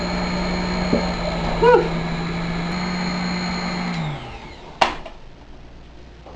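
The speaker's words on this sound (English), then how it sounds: "We're going to turn our beater up a bit." An electric hand mixer beating cookie dough hums steadily at high speed, then winds down and stops, followed by a clack of the beaters and a brief exhaled breath.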